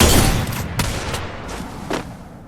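Gunfire in the video game Free Fire: a loud burst at the start, then a few sharp separate shots fading toward the end, with no talk.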